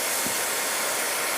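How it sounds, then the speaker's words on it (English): A worn blow dryer running on its hot setting, a loud, steady close-up roar of rushing air with no break and no talking. "Don't judge my blow dryer. I need a new one."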